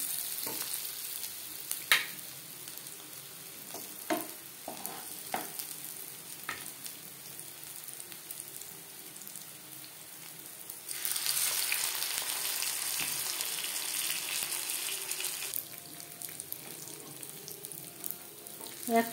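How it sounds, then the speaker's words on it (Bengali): Rohu fish fry pieces, already fried once, sizzle steadily in hot oil over a medium flame, with a louder, denser crackle partway through and a few scattered clinks, no talking. "ফিশ ফ্রাইগুলো ভাজবো মিডিয়াম ফ্লেমে।"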